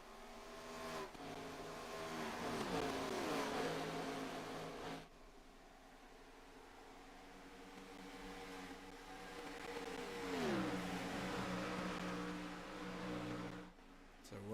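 Race cars lap a track in a racing video game set at Kansas Speedway, engines droning and rising in pitch as they sweep past, with commentary running over the top.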